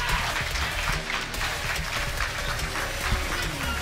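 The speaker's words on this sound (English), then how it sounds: "Crowd went wild." A crowd at a Tekken 7 tournament, NorCal Strong Style 6, claps and cheers in a steady dense roar of applause that runs for several seconds.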